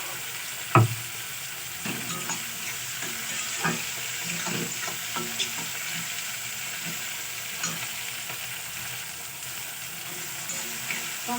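Chopped tomato and onion frying in a pan, a soft continuous sizzle broken by a sharp knock near the start and intermittent scraping stirs, fairly quiet with no one talking.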